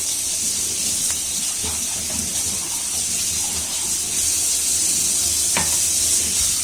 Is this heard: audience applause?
no